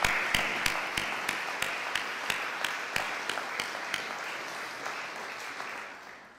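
Applause fills a hall at a school diploma ceremony, a steady crowd clatter overlaid by one loud, rhythmic clapper close by, fading gradually toward the end.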